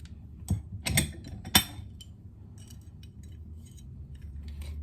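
A few sharp utensil clinks against a bowl while steak is tossed with Goya seasoning and lime, then quieter soft scraping in a quiet kitchen.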